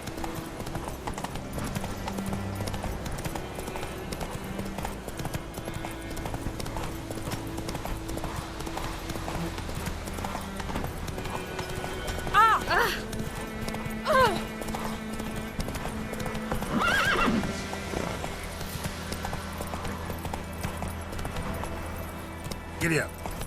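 A horse in The Witcher 3 clip-clops at a steady gallop through the whole stretch, with a couple of whinnies partway through, while people talk over the hoofbeats.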